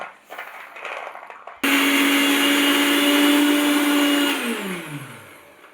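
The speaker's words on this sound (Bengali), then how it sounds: "আর এবার আমি এই ছোলাটা পেস্ট করে নেব" An electric blender grinding chickpeas into paste roars on abruptly after a quieter moment, runs at a loud steady whine for a few seconds, then winds down with a falling pitch.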